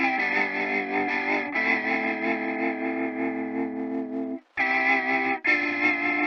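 An electric guitar played through the Retro Fi plugin's vinyl-emulation effect with echo and a little reverb rings out in sustained, distorted chords, loud and close, with a brief silent gap before the strumming returns.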